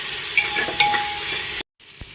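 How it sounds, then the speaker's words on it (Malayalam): Onion sautéing with crushed ginger, garlic and green chili in a pan, cooked for a pressure-cooker chicken biryani, giving a steady close sizzle with a few scraping clinks before a brief cutoff and a quieter stretch. "ഇനി നമുക്കിതിലേക്ക് ഒരു ടേബിൾ സ്പൂൺ ഇഞ്ചി വെളുത്തുള്ളി പച്ചമുളക് ചതച്ചത് നമുക്കിട്ട് കൊടുക്കാം എന്നിട്ട് ഇതും കൂടെ നന്നായിട്ടൊന്ന് വഴറ്റിയെടുക്കാം"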